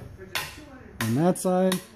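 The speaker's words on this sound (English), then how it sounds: "Where's my hammer? Hammer! A brisk knock." Hammer knocks on a Koni Sport shock absorber from a 2006+ Honda Civic while a dust boot and bump stop are moved, giving sharp metallic strikes with short ringing tones, close and loud.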